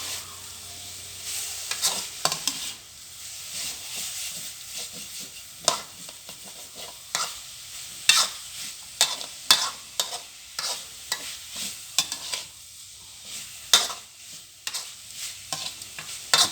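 Frog meat stir-fried dry in a pan, with repeated sharp spatula scrapes and knocks in an uneven rhythm over a faint, steady sizzle, close by and without voices.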